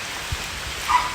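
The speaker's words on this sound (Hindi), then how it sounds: "ये देखो, जोर की बारिश लगी" Heavy rain pouring outdoors at a home, a dense continuous hiss of falling drops with no speech over it.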